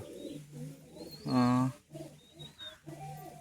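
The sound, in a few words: pigeons cooing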